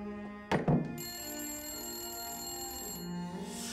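A telephone bell rings in a continuous, shrill electronic trill after a couple of knocks, with a fairly close and steady sound in an indoor scene from a Chinese war drama.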